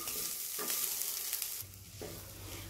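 Prawns with garlic, pepper and chilli flakes fry in a pan, giving a close crackling sizzle broken by a few stirring bursts, moderately quiet overall.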